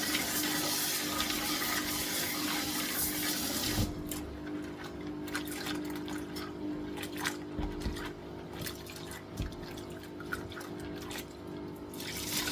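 Water running while beans are sieved and rinsed for moi-moi, a steady rush of flowing water at first, then quieter splashing and scattered clinks and drips in a kitchen.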